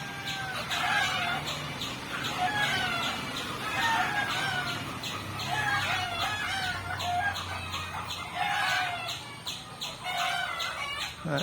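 A native hen and her chicks, newly let out into an open space, cluck steadily while high chick peeps repeat throughout, moderately close and continuous over a low background murmur.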